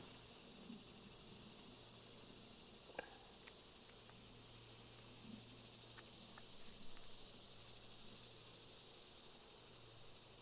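Honeybees swarm around a beekeeper pulling capped honey frames from a hive outdoors, producing a steady, continuous buzzing drone with a faint hiss and no speech.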